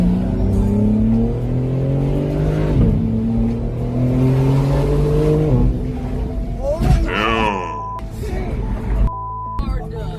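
A car is driven recklessly through Los Angeles traffic, its engine revving hard in rising, climbing sweeps. Later come abrupt shifts and sharp bursts, all under a voice talking over the driving.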